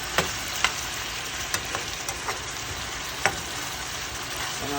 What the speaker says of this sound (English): Gonna let it fry.